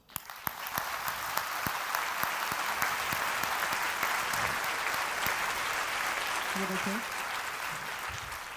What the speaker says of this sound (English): let's give a short round of applause to this joyful memory to her and to the team.